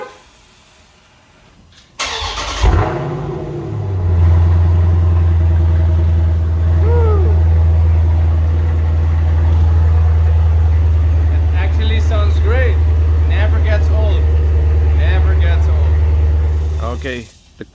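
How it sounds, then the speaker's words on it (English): A Dodge Challenger with a mid muffler delete cold starts with a sharp crank and loud bark, then settles into a heavy, rumbling high idle that runs steadily for over ten seconds, close by, with brief speech at the end. "I haven't done a cold start since I got the mid muffler delete, so it's gonna be a fairly loud one."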